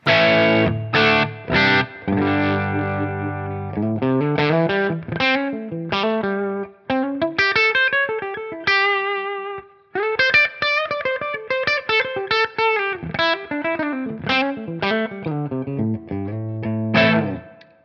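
An electric guitar plays a melodic run through a Fuchs ODS-style amp tone at the edge of breakup, slightly gritty and lightly overdriven, notes ringing with mild crunch and no talking.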